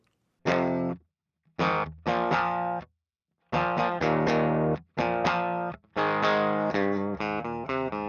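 Electric guitar through a clean amp, chords ringing out in separate strummed bursts with short silent gaps, bright and up close.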